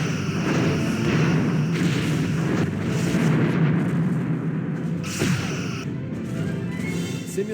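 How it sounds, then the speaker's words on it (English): In the Star Trek Bridge Commander game, a simulated enemy warship is destroyed in a rumbling series of heavy booms and blasts that build and then fade, with an electronic whine running over the top. "Simulated enemy ship has been destroyed."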